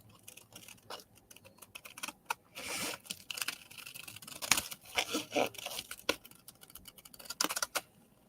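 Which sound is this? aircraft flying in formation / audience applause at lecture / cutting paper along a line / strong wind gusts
cutting paper along a line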